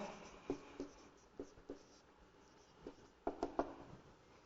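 Chalk or marker taps and short strokes on a board during a maths lesson, scattered irregular scratches with a quicker cluster near the end, fairly close and without talk.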